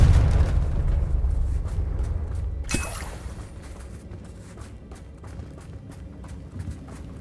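A Confringo fire spell bursts in Hogwarts Legacy with one sharp, bright crack partway through, set over a low rumbling background and faint rhythmic steps.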